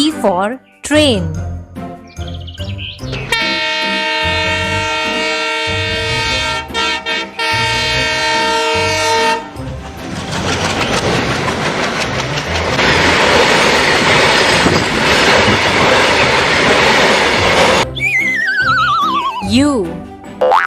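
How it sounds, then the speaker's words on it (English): A train sounds a long, loud horn blast with steady tonal bands, set against rail clatter and a horse whinny at the start and end, with a voice speaking briefly between the sounds. "T for train."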